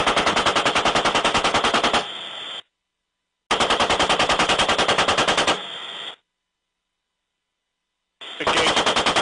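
An Apache attack helicopter's machine gun fires in long rapid bursts, three loud strings of shots separated by short silences.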